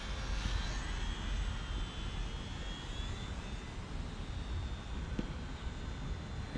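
A remote control Sports Cub model airplane flies slowly overhead. Its small engine gives a steady, buzzing drone with a faint pitch shift as it passes, under outdoor wind noise and with no talk.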